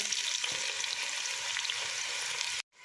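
Onions fry with spices in hot oil for matar pulao, a steady, close, dense sizzle that holds level before stopping abruptly.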